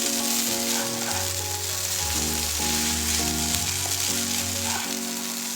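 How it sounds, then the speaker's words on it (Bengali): Veg noodles with ginger, green chilli, capsicum and carrot sizzle and fry loudly on high flame, a dense continuous crackle close up with faint music playing underneath. "হাই ফ্লেমে আমি নুডলস বা চাউমিনটাকে ভাজা ভাজা করে নেব"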